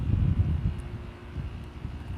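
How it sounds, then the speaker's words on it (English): Strong wind gusts outdoors buffet the microphone with a steady low rumble and rustle, loud and continuous, while a man smokes a Montecristo Platinum Series cigar. "Man, it is windy out here"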